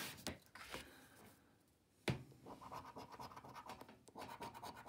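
A £5 National Lottery scratch card being scratched, with a few short, close, sharp scraping strokes and a brief louder scrape midway, alone with no talking.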